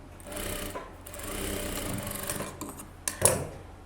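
A sewing machine runs steadily while stitching a blouse, giving a continuous close mechanical whir for several seconds, then a few sharper clicks and knocks near the end.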